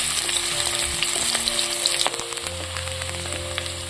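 Chopped onion and a bay leaf fry vigorously in hot oil for a mutton fat and chickpea ghugni, a loud continuous crackling sizzle with brief stirring clatters partway through.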